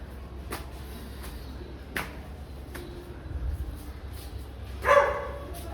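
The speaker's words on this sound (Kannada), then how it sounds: "ನಾಯೆಲ್ಲೋ ಬೋಬೋ ಅಂತ ಭಯ" A dog barks a few times, short sharp barks spaced seconds apart, with one louder bark near the end against a quiet outdoor background.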